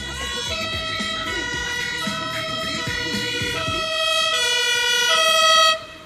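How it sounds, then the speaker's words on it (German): In Berlin traffic, a Rettungswagen ambulance siren wails in a loud two-tone cycle, drawing close and sounding steadily for several seconds before cutting off abruptly, with a vehicle engine rumbling beneath. "Mal Kudos, wie schnell alle angehalten haben, dass der Rettungswagen durchfahren konnte."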